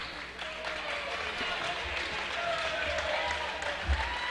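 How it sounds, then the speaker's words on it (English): Home crowd applauding at a high school girls basketball game in a gym, a steady wash of clapping throughout with a commentator talking over it. "A little ovation from this home crowd"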